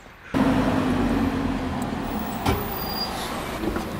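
A bus in Tenerife rumbles steadily from close by after a sudden onset, its low engine drone holding with a faint hiss and a brief clunk partway through, no talk over it.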